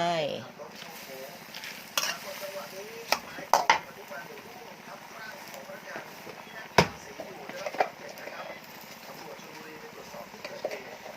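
Glass noodles stir-fry with cabbage and minced pork, a constant sizzle broken by sharp scraping and tapping strokes of a spatula against the pan, with a voice speaking in places.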